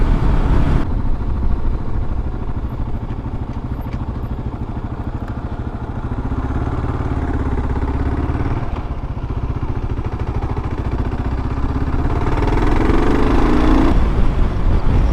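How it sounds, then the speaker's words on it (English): A motorcycle engine runs steadily during a ride, a close, loud, constant drone with slight shifts in pitch and a rising note near the end, mixed with rushing wind and rattle. "So we'll just take a quick trip and then get back and see if the microphone worked."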